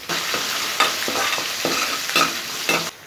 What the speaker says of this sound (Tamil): கட் பண்ணி வச்சுருக்கிற சின்ன வெங்காயம், கூடவே 2 காஞ்ச மிளகாய் எல்லாத்தையும் போட்டு நல்லா வதக்கணும்